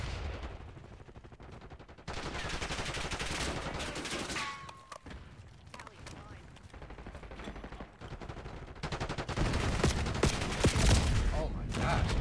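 Gunfire in the Black Ops 6 video game, with rapid automatic bursts and single shots that come in loud dense stretches, near and sharp, broken by brief quieter gaps.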